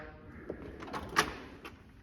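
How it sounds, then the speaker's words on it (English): A drawer on a 68-inch Snap-on Epiq tool box slides open, a short rolling glide with a few light clicks and one sharper metallic clack near the middle, with no talk. "Moving on to the next drawer."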